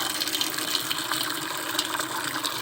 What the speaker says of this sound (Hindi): इस वाले नल से पानी भर लूँगी।